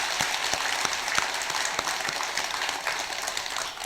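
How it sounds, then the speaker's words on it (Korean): Buddhist temple congregation at a monthly dharma service claps together, a dense patter of many hands with a few sharper individual claps standing out, steady throughout. "우리 박수 한번 쳐야 돼요"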